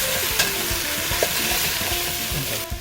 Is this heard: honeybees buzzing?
no